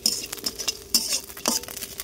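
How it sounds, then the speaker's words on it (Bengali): Mourola fish heads fry in hot oil in a pan as a spoon stirs them, with repeated metallic scrapes and clinks over a soft sizzle and no talk. "গরম তেলে মাথাগুলো দিয়ে দিয়েছি। একটু ভেজে নিয়ে নেড়ে চেড়ে"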